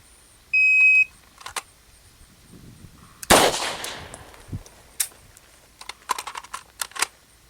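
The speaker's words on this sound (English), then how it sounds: "after the beep for you to get your hand on the gun, get the gun out, and fire the 1 round on the target." Shot timer gives a single sharp electronic beep, followed a couple of seconds later by one loud, close handgun shot fired on a training range, then faint clicks and handling noises.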